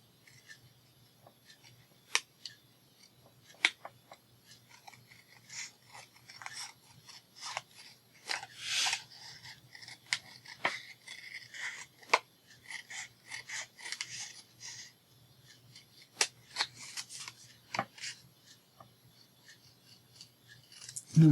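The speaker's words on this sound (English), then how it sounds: "I think I'm going to cut that little bitty point off." Scissors snip a small point off a handmade ephemera keychain piece, a series of faint, close, irregular cutting clicks and rasping scrapes spread across the stretch, with no talking.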